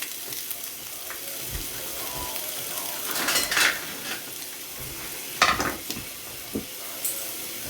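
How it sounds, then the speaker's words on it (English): Ginger frying in hot oil in a saucepan gives a continuous soft sizzle, broken by a few sharp clinks and scrapes of a utensil against the pan as it is stirred. "So now the oil is nice and hot. I'm going to add some"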